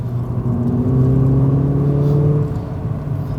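A tuned Audi S1 accelerates hard, its engine note climbing steadily and loud and close for most of the clip before easing off near the end, with no talk over it.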